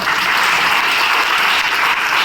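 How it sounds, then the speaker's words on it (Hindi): Steady, dense applause from an audience at a business income-plan presentation, loud and continuous throughout with no voices on top. "जोरदार तालियां अपने लिए।"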